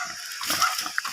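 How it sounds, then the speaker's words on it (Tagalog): A pig grunting outdoors, with a series of short, rough grunts in an uneven rhythm, fairly close and moderately loud. "So may baboy gali guys"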